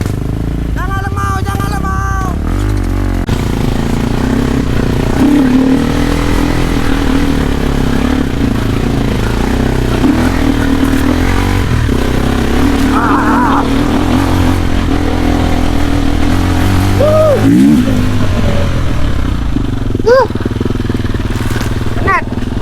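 An enduro motorcycle revs and labours on a forest hillside, its engine note rising and falling loudly and close by, with people talking over it throughout.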